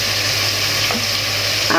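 Chicken vegetable fried rice being stir-fried on a high flame in restaurant style, a steady loud sizzle with occasional scrapes and tosses of a spatula in the pan, with no talking.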